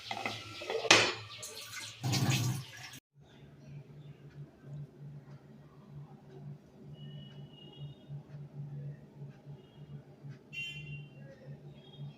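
Water is poured into a cooking pot in two short, loud splashing bursts over the first few seconds, then only a quiet background hum with faint scattered clicks remains.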